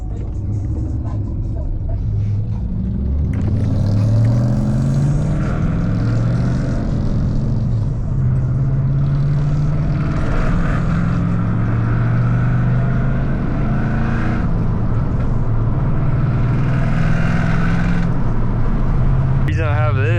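An untuned Ford Mustang GT engine rumbles loudly and steadily at close range, a deep continuous drone whose pitch rises and falls slightly as it runs for the full stretch.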